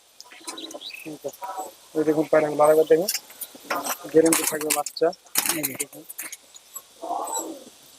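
Andhra pigeons coo in soft, throaty bursts close by at a pigeon sale in Murshidabad, interspersed with short higher chirps and a few sharp clinks.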